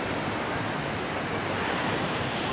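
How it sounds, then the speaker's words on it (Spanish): Heavy ocean surf pounds a Cancun beach in a steady, loud roar of breaking waves, with wind buffeting the microphone and no voices. "Y hay tremendo oleaje."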